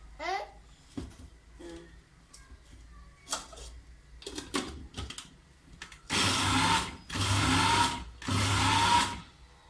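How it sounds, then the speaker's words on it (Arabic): Electric grinder chopping fresh herbs and celery in a home kitchen, running in three loud bursts of whirring near the end, preceded by short clatters and handling noises. "دابا غادي نبدا نطحن"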